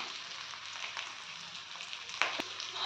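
Spices and prawn masala fry in a pan over a medium-to-high gas flame, a steady close hiss of sizzling oil with a couple of sharp clinks from a utensil near the end.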